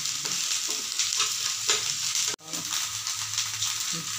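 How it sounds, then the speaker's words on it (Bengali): Ginger and chili paste sizzles in a hot pan while being stirred, a steady bright hiss broken by repeated scraping strokes and one sharp clatter midway, with no talking. "একটু নেড়ে নেব 2 মিনিট,"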